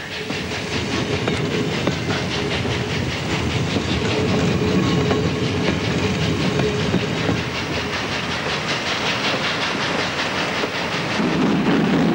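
A model freight train runs along its track with a continuous rolling rumble and rapid clickety-clack, steady and close throughout with a faint hiss.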